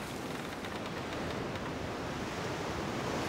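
A steady, loud rush of wind at sea blows in the naval game World of Sea Battle, a continuous broadband roar like surf, with no other sounds.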